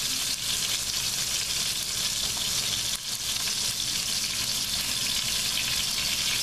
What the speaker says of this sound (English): What I'm going to do is add 1 cup of cold water.